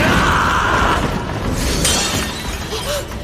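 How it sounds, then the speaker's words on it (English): A sword blade shattering to pieces as an anime sound effect, a bright crystalline burst with a scattering, glassy ring that fades under a background music bed. "Jinwoo's blade shatters to pieces when he attacks it"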